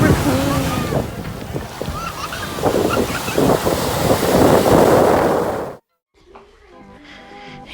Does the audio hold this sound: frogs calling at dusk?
no